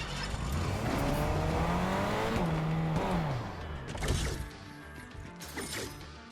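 Engines roar loudly in a Fortnite cyberpunk tycoon map, a revving car shifting pitch, then a crash-like thud before the engine noise drops and fades.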